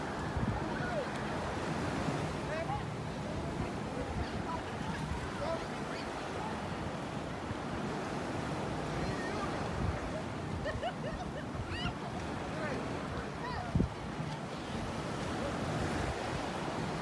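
Ocean surf washes onto a quiet Florida beach on a weekday, a steady broad roar of breaking waves mixed with wind buffeting the microphone, moderately faint and continuous.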